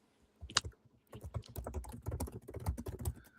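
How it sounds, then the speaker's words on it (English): Fingers clatter across a computer keyboard with a rapid, uneven run of close keystrokes, starting after a brief burst and pause and then continuing steadily with no talking. "I'm just typing in."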